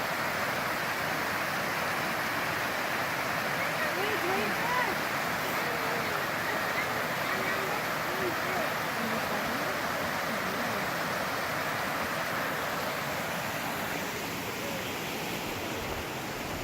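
Small waterfall on a creek beside a hiking trail near Hanging Lake, Colorado, a constant rushing splash of water close by, with faint voices murmuring underneath.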